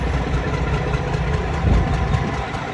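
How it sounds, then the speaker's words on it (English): A Detroit Series 60 diesel truck engine idles steadily and close by, its low rumble carrying an uneven, stumbling beat as if a cylinder is missing. "That's a 60 series Detroit right now."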